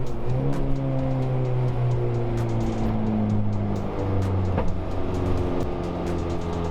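K-swapped Honda Civic EG with a 2.4 litre engine and a freshly reconditioned head, heard on its first drive: a steady, loud engine drone with rising pitch sweeps as it pulls through gears, close and continuous, no talk.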